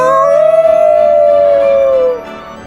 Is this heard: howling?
yes